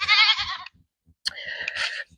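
Goats on a garden property bleat nearby, one long wavering call followed after a short pause by a second, loud and clear with no talking.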